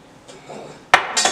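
Dishes and utensils clink in a kitchen while a family mixes sugar into cookie dough in a bowl, ending in a sharp clatter and a second knock; voices talk faintly underneath.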